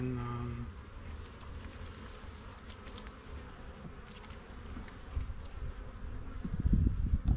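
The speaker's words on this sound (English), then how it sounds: "Most of the bees are right here" Honeybees buzz steadily around an open hive during a spring inspection, a dense close drone with brief handling knocks and rustling that grow louder near the end.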